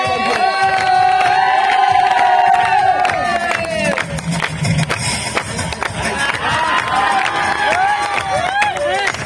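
A crowd cheers and roars at a village cricket final's prize ceremony as the best bowler is honoured, loud continuous shouting and hubbub with a voice calling over it, no distinct clapping rhythm.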